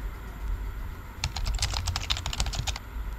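Computer keyboard typing sound effect: rapid, close clicking keystrokes in a quick burst after a quiet start, with no voices.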